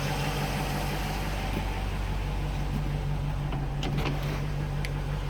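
A 1972 Range Rover's carburetted engine idles while warming up, a steady low hum and drone close by, with a few faint clicks over it.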